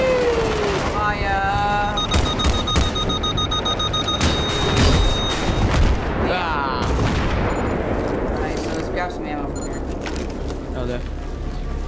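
Battlefield 3 combat with a rocket fired at a tank: repeated loud explosive booms and gunfire bursts, with heavier blasts near the start and middle, over continuous battle noise while players talk throughout.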